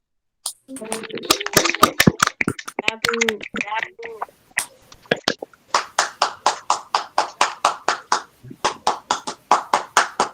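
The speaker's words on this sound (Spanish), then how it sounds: "Un fuerte aplauso por ese premio." An audience applauds an award presented at a school anti-bullying session. The clapping is loud and sustained, with speech over it at first and then a steady, rhythmic unison clap.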